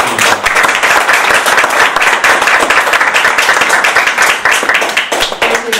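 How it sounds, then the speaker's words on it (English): An audience at a Broward College North Campus event gives a round of applause, a dense, steady crackle of many hands clapping that stays loud and continuous from start to finish. "Give me a big round of applause for Eva."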